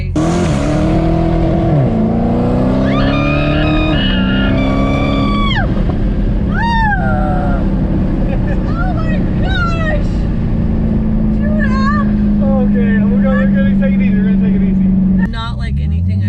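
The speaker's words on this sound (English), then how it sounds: "Well, that's the supercharger." The supercharger of an 800-horsepower Dodge Hellcat whines loudly as the engine roars under hard acceleration, a steady mechanical drone that runs throughout while excited voices shriek and talk over it inside the car.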